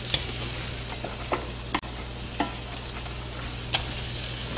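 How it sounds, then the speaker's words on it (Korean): Onion and carrot stir-frying in a pan for japchae, a continuous close, loud sizzle with a few brief scraping stir sounds, no voices. "이제 야채를 볶아볼게요. 양파가 어느 정도 익으면 당근도 넣어주고요."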